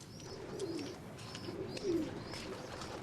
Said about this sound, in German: Die Tauben übrigens sind auch Bewohner der vermauerten Stadt.